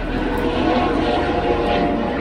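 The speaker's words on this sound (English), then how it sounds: "Cool helicopter." A helicopter flies overhead outdoors, producing a steady, loud rotor and engine drone that holds constant throughout with no talking.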